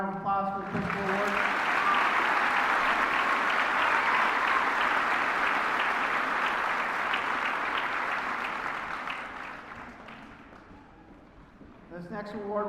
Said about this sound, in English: One more round of applause for the principal award.